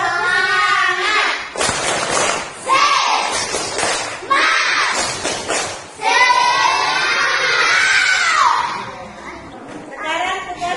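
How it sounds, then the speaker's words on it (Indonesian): Schoolchildren in an Indonesian classroom chant and clap together in the tepuk semangat spirit clap, bursts of rhythmic group clapping alternating with loud chanted voices. "Tepuk semangat"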